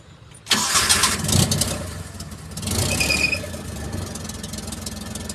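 A Multicab 6-valve engine starts and idles with a worn alternator fan belt squealing sharply, the screech surging loudest right after startup and again a moment later over the running engine.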